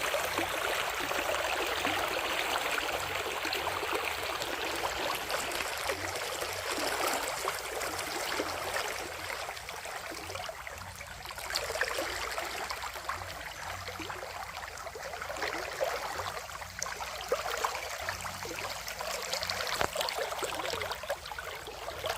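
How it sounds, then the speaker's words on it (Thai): A clear, rocky stream runs beside farmland near the Sarika waterfall road in Thailand, giving a steady, close rush of flowing water that holds an even level throughout, with no voices. "ติดลำธารยาวถึง 170เมตรเลยนะคะ น้ำใสมากค่ะ"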